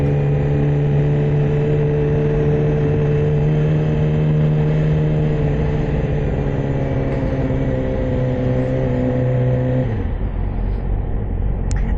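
A Yamaha R6 sport motorcycle rides through rain on a commute, its engine giving a steady loud drone under wind and spray, with the pitch shifting down near the end.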